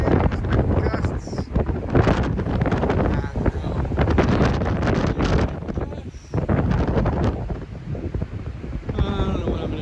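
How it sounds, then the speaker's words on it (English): Strong wind, sustained at 20 mph with gusts, roars and buffets the microphone continuously in the desert between Death Valley and Las Vegas, swelling in gusts with a brief lull partway through. "Currently at 20-mile-an-hour sustained winds with gusts."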